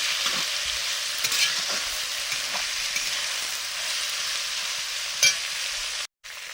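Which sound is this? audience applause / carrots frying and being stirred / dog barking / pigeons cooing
carrots frying and being stirred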